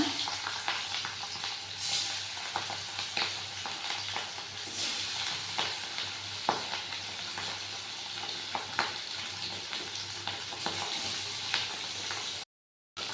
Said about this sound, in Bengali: কড়াইতে তেলটা গরম হয়ে গেছে